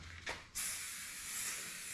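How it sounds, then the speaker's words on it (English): Honda spray cleaner and polish is sprayed from an aerosol can in a workshop during a welder fan repair. A brief puff is followed by a steady, close hiss that lasts over a second, with no talking. "it's a Honda product. It's spray cleaner and polish."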